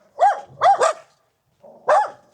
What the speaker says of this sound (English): I'm just gonna pause for a moment because we've got barking dogs